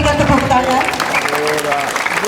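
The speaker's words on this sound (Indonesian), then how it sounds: "Sekali lagi kita berikan tepuk tangan" Audience applause at an official ceremony where the governor and vice governor of NTT attend a sentence-remission handover for prisoners, steady clapping throughout with a voice talking over it.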